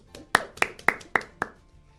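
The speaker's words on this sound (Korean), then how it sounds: "박수" Around five or six sharp, evenly spaced hand claps ring out close and clear in a quick rhythm, tapering off at the end, with no other sound around them.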